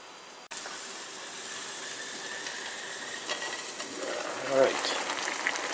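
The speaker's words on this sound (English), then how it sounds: "we've got our vegetables at a full boil" Vegetables for green tomato relish at a full rolling boil in a pot give a steady hissing, bubbling rush that starts abruptly and swells slightly, with a brief louder gurgle near the end.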